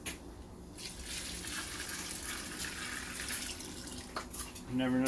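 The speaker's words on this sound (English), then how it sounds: "I'm gonna add some water." Water is poured into a bucket to mix half a bag of thinset for a tile shower, a continuous splashing gush that runs steadily at close range before shifting near the end, with a voice faintly present.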